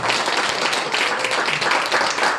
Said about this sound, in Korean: 박수 쳐주시면 감사하겠습니다.